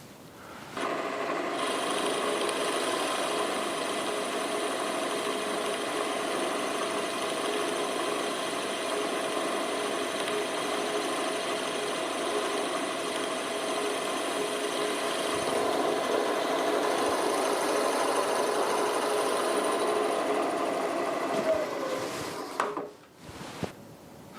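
Milling machine running at 800 RPM on a milling table, a steady close mechanical whine and hum that holds for about twenty seconds before spinning down with a few clunks.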